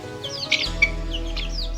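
Ispenç chickens cluck and chirp in short bursts over a steady low hum, with a few quick bird calls scattered through.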